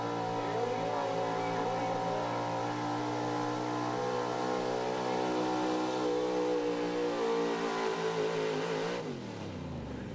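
A pulling truck's engine roars with a sustained high, harmonic rev at an evening truck and tractor pull at a mechanic shop, loud and steady, then drops off sharply near the end.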